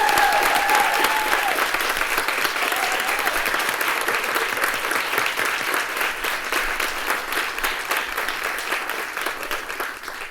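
A full audience at an awards ceremony and reception breaks into sustained applause, dense and loud throughout, with a faint voice briefly audible near the start before the clapping tapers slightly toward the end.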